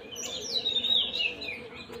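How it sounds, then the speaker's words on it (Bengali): Birds call around a rooftop garden on a misty morning, with a clear whistling chirp running for about a second and softer calls after it, quiet and at some distance, with no talking. "এত সুন্দর সকালবেলা পাখিগুলো ডাকছে চারিদিকে"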